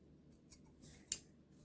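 Scissors snip through crochet yarn in one sharp, close cut, preceded by a couple of faint rustles of handling, with no talk.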